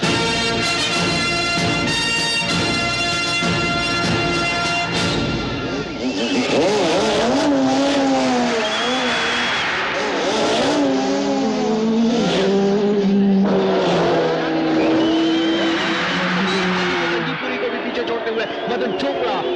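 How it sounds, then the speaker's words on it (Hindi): Race cars accelerate hard during a race, engines screaming and rising in pitch through gear changes as they pass close and loud. A commentator talks over the engine noise. "मदन चोपड़ा लगभग उनके साथ साथ ही अपनी गाड़ी बढ़ाते हुए, लेकिन एकदम से लीड लेते हुए"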